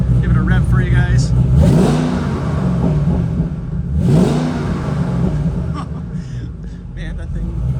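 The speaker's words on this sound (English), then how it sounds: "You can hear this thing just idle, it just sounds mean. Give it a rev for you guys" Supercharged 2013 Ford Shelby GT500 with a 6-speed manual idles with a deep, rough rumble, then gets two sharp revs that swell and fall back to idle, heard close up.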